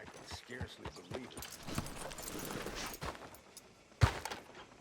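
Horse hooves clip-clop at a steady walking rhythm in the Red Dead Redemption 2 video game, mixed with town ambience and a sharp thud near the end.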